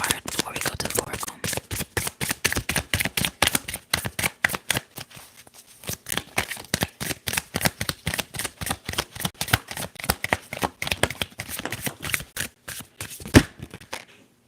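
Tarot cards being shuffled up close in a quiet room, a dense rapid run of crisp riffling flicks and taps that continues with only brief breaks, with soft speech in places.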